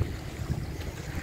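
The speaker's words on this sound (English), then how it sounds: "Long tailboat" A long-tail boat motor drones low and steady on open water off a Thai island, blended with wind buffeting and sea noise over a brief stretch.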